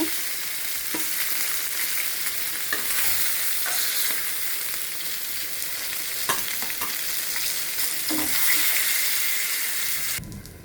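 Rohu fish frying in a pan gives a continuous loud sizzle, broken by a few sharp clinks and scrapes of stirring, with no one talking.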